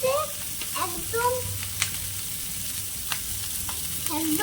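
Hilsa fish fries in a pan with a steady crackling sizzle close by, while faint chirping-like tones and small clinks sit over it.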